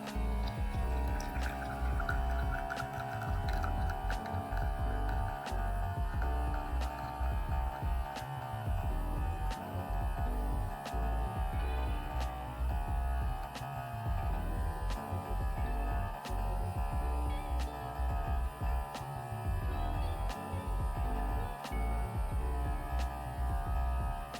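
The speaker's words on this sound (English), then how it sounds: "We brew our double shot of espresso." An OutIn Nano portable espresso machine brews a double shot, a steady pump hum with a low rhythmic pulsing beneath a thin trickle of coffee, close and continuous throughout without any talk.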